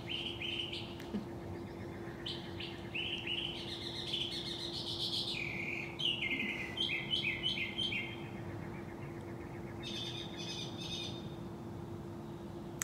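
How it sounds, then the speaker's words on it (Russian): Several birds chirp and sing in overlapping bursts of high, bright calls over a steady low hum, with some trills and repeated tweets. "Столько много птиц, вот щебетание птиц"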